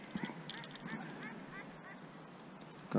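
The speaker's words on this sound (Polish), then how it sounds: "Kaczka się nabija ze mnie." A duck on a lake quacks and honks repeatedly in short bursts at a distance, faint against quiet open-air background near a small inflatable fishing boat.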